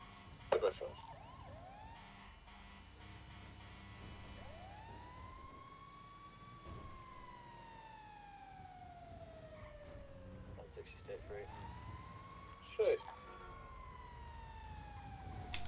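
Wailing fire engine siren from a big red London Fire Brigade engine in a video game, long rising and falling sweeps repeating over steady engine rumble, with a couple of short sharp bursts and some talk in the background.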